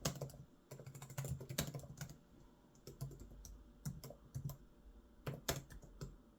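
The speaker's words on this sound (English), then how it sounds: "The keys feel nice and premium, there is decent travel in between them, and they are super quiet as well" Typing on the backlit keyboard of a Lenovo IdeaPad 5i Gen 10 2-in-1 laptop, quiet rapid key clicks in an irregular rhythm, close up with no talking.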